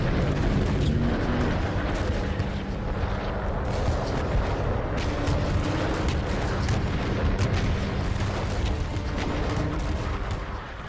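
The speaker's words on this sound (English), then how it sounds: "Sergeant Tawney witnesses the final frenzied bombardment of the German line." A frenzied World War I artillery bombardment pounds the German line at the Somme, a dense, continuous roar of overlapping booms and blasts rumbling without pause, loud and close throughout with no voices.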